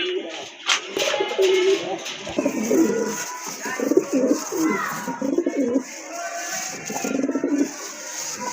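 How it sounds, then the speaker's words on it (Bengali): A pair of local pigeons kept for breeding coo repeatedly at close range in soft, throaty bursts, with faint background voices and bird calls. "খুবই চমৎকার এক জোড়া কবুতর"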